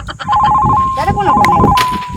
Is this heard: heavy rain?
no